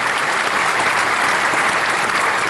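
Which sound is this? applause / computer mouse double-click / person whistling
applause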